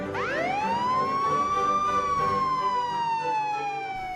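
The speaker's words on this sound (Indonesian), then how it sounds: "Aku akan menyalakan sirine." A single electronic siren wail rises quickly, holds, then slowly falls, loud and close with no talking.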